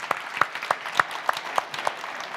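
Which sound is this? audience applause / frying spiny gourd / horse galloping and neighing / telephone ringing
audience applause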